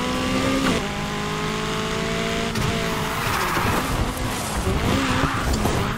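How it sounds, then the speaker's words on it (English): A Nissan 180SX drifts in the racing game Need for Speed Heat, with a steady loud engine drone and sustained tire squeal and skidding that run without a break from start to finish. "I just enjoy the drift."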